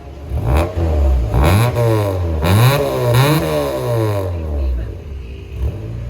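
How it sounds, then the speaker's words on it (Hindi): A car engine revs loudly several times, rising and falling in pitch with a rough clattering tone, close by and continuous, from a car with a water-dropping engine fault. "मैं साउंड चेक करवाता हूँ। साबिर भाई रेस देना जरा।"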